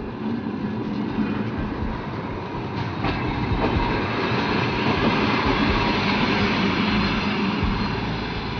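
A Trans-Siberian Railway train rolls along, giving a loud, steady rumble and clatter of wheels and wagons heard from inside or close by. The noise continues unbroken and no one speaks.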